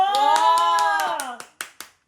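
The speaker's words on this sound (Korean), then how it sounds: "박수 갈채." A few people clap at a restaurant table during a meal, with sharp, closely spaced hand claps under a sustained voice, then a few slower, separate claps trailing off.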